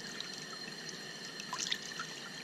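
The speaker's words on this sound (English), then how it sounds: "And I've already got nice warm water cutting through this thing." Warm water runs steadily through a Zodi camp shower, a soft continuous spray and trickle with a few brighter splashes near the middle, heard alone without talk.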